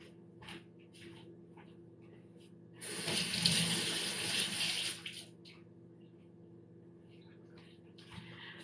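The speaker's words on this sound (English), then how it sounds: "I just wanted to rinse my teaspoon or my spoon here" A teaspoon is rinsed under a running kitchen tap, the water gushing steadily for about two seconds in the middle before shutting off, with quiet handling noises before and after.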